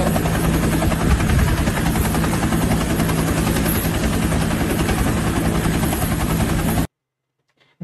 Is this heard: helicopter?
yes